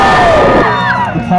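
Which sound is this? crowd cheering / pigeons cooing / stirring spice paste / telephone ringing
crowd cheering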